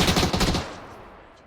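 A burst of rapid automatic gunfire in the battle royale video game PUBG, loud and close, rattling for about half a second before fading into a decaying echo.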